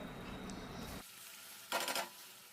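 Tomato puree hits softened onion in a hot pan, with a steady low sizzle followed by a short, brighter burst of frying and stirring before settling down.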